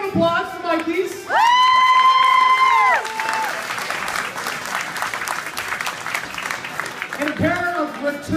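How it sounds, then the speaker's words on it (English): A crowd at a radio station giveaway event bursts into applause, cheers and whoops, with loud clapping that holds steady for several seconds before tapering, while voices shout over it and someone talks near the start and end. "Big round of applause for Mikey's."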